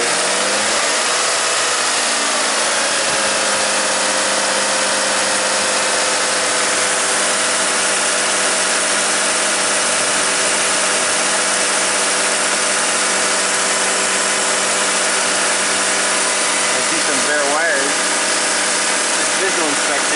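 An Acura V6 with a misfire, held steady at about 1500 rpm, gives a loud continuous engine drone close by with a steady tone and no rhythmic breaks.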